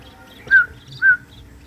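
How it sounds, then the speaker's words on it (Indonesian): A hybrid songbird, a female sooty-headed bulbul (kutilang) crossed with a male cerucuk bulbul, gives two short clear chirps about half a second apart, close by and alone. "Nih burung hybrid, ini kutilangnya cewek dan cerucuknya jantan."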